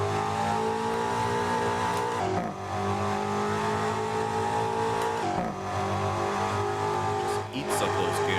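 A BMW engine accelerating hard through the gears on New York City streets, with loud rising revs broken by quick shift gaps and tire noise, and a voice talking over it.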